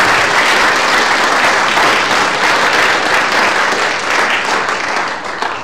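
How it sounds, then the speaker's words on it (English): A church congregation breaks into a big round of applause for its prayer chaplains, dense and sustained clapping filling the room, loud and continuous before tapering slightly at the end. "Let's give them a big round of applause."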